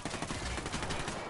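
Rapid gunfire in Tom Clancy's Ghost Recon Wildlands, a dense, loud burst of overlapping shots filling the whole moment with no pause.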